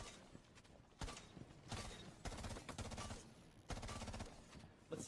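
Video game gunfire during a recoil test comes in several sustained automatic bursts separated by short pauses, fairly close and crisp, with no talking.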